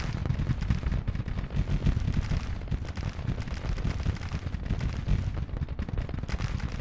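Massed musket fire from skirmishers in a Civil War battle game rolls on as a dense, continuous crackle of overlapping shots with deep low rumble, steady and loud throughout with no talk.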